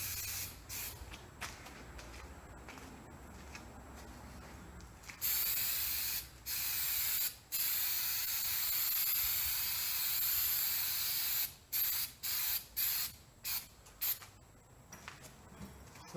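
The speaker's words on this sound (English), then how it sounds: "just been lightly spraying some texture coat on this" Texture coat paint hisses from a spray can onto a bumper rack in several bursts, one long and steady, the rest short and sputtering, close and loud against quiet background noise.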